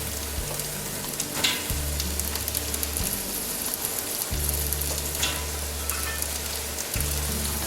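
Carrots, celery and jalapeno pepper sizzle in a soup pot, a steady crackling hiss that runs throughout over a low droning hum, with no talking.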